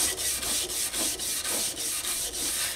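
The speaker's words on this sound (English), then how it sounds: "it's gonna help slide and guide through that sandpaper" Wet sanding a motorcycle petrol tank with wet and dry sandpaper, a steady rhythmic back-and-forth rasp of about ten even strokes, close and loud with no talking.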